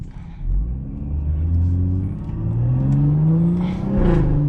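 A car engine revs hard on a downshift while taking a corner, its loud, steady roar climbing sharply in pitch and swelling again near the end, with no talking.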